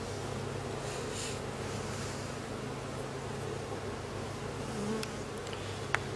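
Honeybees on a hive frame after swarming: a dense, steady buzz of many bees, close and continuous, with a faint click near the end and no voices.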